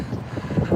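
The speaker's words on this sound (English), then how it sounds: "it's windy, so I apologize for that" Wind gusts buffet the microphone while walking outdoors in New York City, a loud low rumble that rises and falls throughout with no talking.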